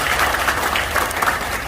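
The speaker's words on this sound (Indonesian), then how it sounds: "Tepuk tangan untuk komunitas ini." A short burst of steady applause from a seated audience at a community presentation, dense clapping at moderate loudness throughout.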